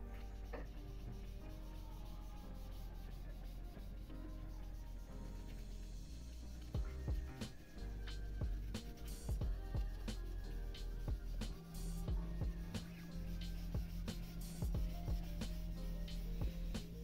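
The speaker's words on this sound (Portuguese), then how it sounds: "a gente vai espalhar com papel higiênico para começar depois a trabalhar volume e profundidade do rosto" Toilet paper rubbed over a pencil drawing of a realistic face to blend the shading, a soft continuous scraping rustle with steady strokes, close and quiet throughout, with a faint low hum underneath.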